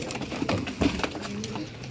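Pigeons coo softly amid a busy background of scuffling and rustling, with a few muffled knocks.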